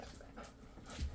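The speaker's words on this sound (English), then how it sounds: "If you hear my dogs in the background, please don't mind them" Pet dogs in a home pant softly and let out faint whimpers in the background, quiet and brief.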